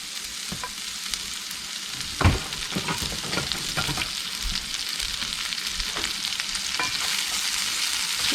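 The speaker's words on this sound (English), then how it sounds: "we're going to get our extra onions in there, and we're going to cook those down some to put in our green beans" Onions cook down in bacon grease in a cast iron skillet, a continuous close sizzle with intermittent utensil scrapes and one louder knock early on, without any talking.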